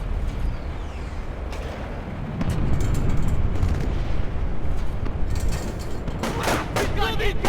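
Incoming gunfire and explosive booms during a firefight in Splinter Cell Chaos Theory on Xbox, a dense, loud rumble of shots and blasts that swells partway through, with voices mixed in.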